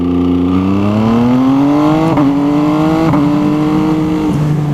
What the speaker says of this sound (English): As you can tell, it's got a quick shifter that works brilliantly